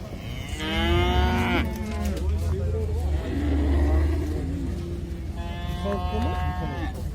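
Cows mooing at a livestock market, two long, loud, close moos, one near the start and another near the end, over a busy background rumble of vehicles and people talking.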